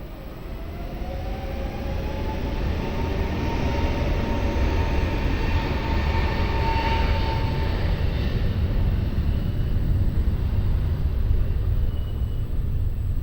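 A Turkish Airlines jet taking off from runway 20 at Lisbon airport, a loud, steady broadband roar that builds and holds, with a faint rising whine drifting through it from a distance.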